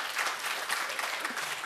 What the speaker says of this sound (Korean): 박수 좀 쳐야지요.